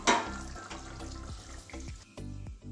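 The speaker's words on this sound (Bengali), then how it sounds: "এবারে নামিয়ে নিচ্ছি, একটা বাটির মধ্যে ঢেলে দেখাচ্ছি।" Tomato katla fish curry being poured from a pot into a bowl, a liquid slosh and pour with a sharp clatter at the start, followed by scraping and clinks of the vessel at close range.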